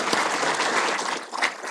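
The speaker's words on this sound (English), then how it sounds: "Another round of applause for Kevin." Audience applause for an award winner at an annual meeting, a dense burst of many hands clapping at once, fairly loud and even throughout its short span with no voices on top.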